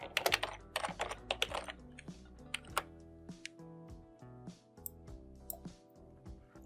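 Someone types on a computer keyboard while entering text into an Excel cell, a close, clear patter of key clicks in quick bursts with short pauses, with no talking.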